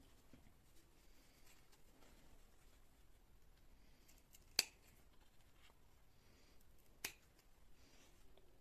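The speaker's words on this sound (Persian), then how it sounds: "حالا من اینو قیچی میکنم" Scissors cut fabric while sewing a placket with a facing and lining, giving two sharp, isolated snips a few seconds apart in an otherwise quiet room.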